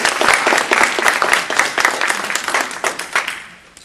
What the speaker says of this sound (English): Please welcome them and give them a round of applause.